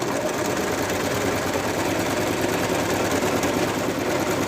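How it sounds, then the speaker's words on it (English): A sewing machine stitches a plush toy in a continuous rapid mechanical chatter, its needle hammering evenly and close throughout with no pauses and no talking. "So I have to make sure I don't sew too close to my previous stitches"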